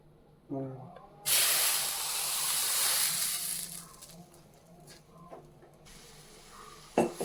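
Ground cassava paste hits a hot non-stick pan and erupts into a loud, bright sizzle that holds for a few seconds, then fades into softer crackling and stirring, with a brief clatter near the end.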